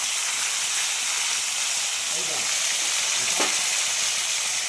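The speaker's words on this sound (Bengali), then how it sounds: "একটাতে একটা করে ভাজতে হবে, এত বড় বড় মাছ" Large fish fry in a pan in a home kitchen, a loud steady sizzle with hiss running throughout, and brief faint voices underneath.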